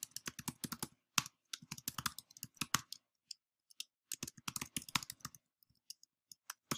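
Someone types a reply email on a computer keyboard, a quick close run of crisp key clicks in uneven bursts with short pauses between words.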